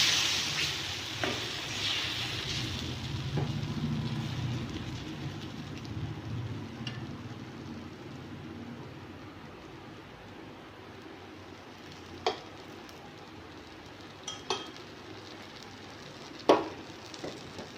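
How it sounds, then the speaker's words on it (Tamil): Whole wheat flour dosa batter hits a hot pan and sizzles, loudest at first and then fading to a quieter hiss, with a few sharp clinks and taps from utensils. "ஒரு தோசை ஊற்றி காட்டுறேன்."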